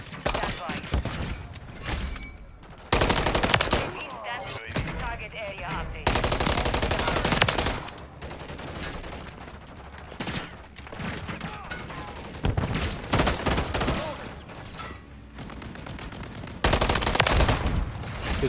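Automatic assault rifle fire in the video game Call of Duty MW3, with loud sustained bursts and rapid shots that start and stop repeatedly, separated by quieter stretches with some talk underneath.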